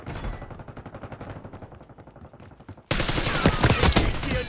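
Rapid automatic gunfire in the Black Ops 6 beta Kill Order mode on the Rewind map, a steady rattling burst that suddenly grows much louder and denser partway through, with a faint voice underneath.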